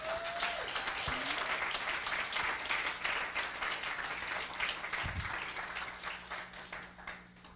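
A church congregation applauds to welcome Reverend Cindy at a Sunday service, steady dense clapping filling the room throughout before fading at the end, with a few faint voices underneath.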